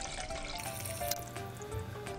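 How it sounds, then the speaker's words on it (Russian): Room-temperature water poured into glass jars of courgettes in a pot, a faint steady trickle with light splashes, quiet and close. "Теперь надо залить банки обычной водой комнатной температуры до плечиков банок."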